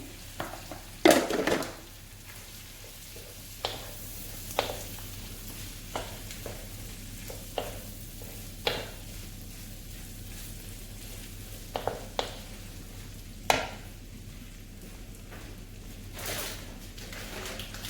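A preparation simmering in a pan gives a low steady bubbling hiss, broken by periodic sharp clicks and knocks of a utensil against the pan, close and fairly quiet, with no talk.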